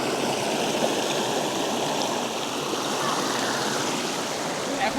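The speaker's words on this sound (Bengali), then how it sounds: "পাতাবান্ধা ওয়াটারফলস, খুব সুন্দর এই ওয়াটারফলস" Patabandha waterfall at Daringbadi in Odisha pours with a steady, dense rushing roar, close and unbroken throughout.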